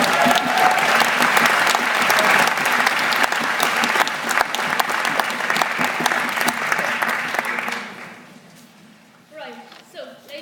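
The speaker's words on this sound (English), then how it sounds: "We'll give you a round of applause" An audience at a Catholic Church debate gives a loud, sustained round of applause for a speaker, fading out near the end as a voice begins talking.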